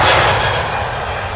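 JetBlue jet airliner taking off from the Polderbaan runway at Amsterdam Schiphol Airport bound for Boston, a loud, steady, broadband engine roar that holds close and constant, easing only slightly in level toward the end.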